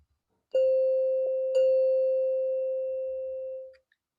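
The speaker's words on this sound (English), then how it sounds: "1 minute later, two soft tones signal students to move to their next" Two soft electronic chime tones sound about a second apart, each a clean sustained ring that slowly fades, signaling classroom transitions between learning centers in an otherwise quiet room.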